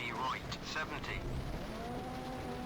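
A rally car in the Richard Burns Rally video game is stuck in first gear, its engine droning loud and strained at high revs with a steady buzzing tone throughout and a voice over it.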